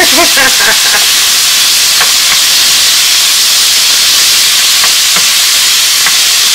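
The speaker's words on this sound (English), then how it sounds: "we're just going to go ahead and stir this around in the olive oil and the bacon oil, or grease" Beef pieces searing in olive oil and bacon grease, stirred in a pan for beef bourguignon; a steady loud sizzling hiss runs throughout, with a few scraping clicks of stirring near the start and scattered later.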